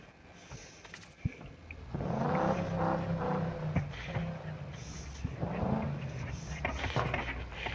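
Engine revving hard as a car launches off the line in a rush hour race in Need for Speed No Limits, a loud sustained roar rising from about two seconds after a quieter start, with racing game sounds layered over it.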